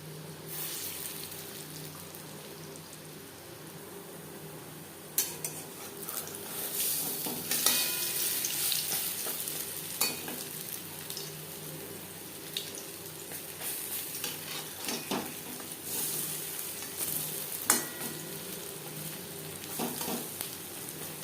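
Masoor lentil fritters fry in a pan of oil with a continuous close sizzle, punctuated by occasional clicks and scrapes of turning and stirring, and no voices.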